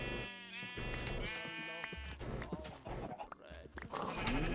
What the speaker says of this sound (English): sheep. I am not here to kill you today. I simply need your woolen coats.